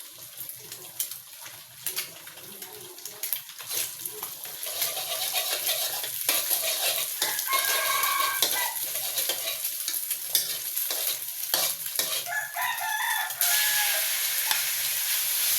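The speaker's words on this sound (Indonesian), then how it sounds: "Ini saya goreng kuitiau" Kway teow noodles stir-fried in a pan, with continuous sizzling and frequent scraping, clattering stirs that grow louder and busier as cooking goes on.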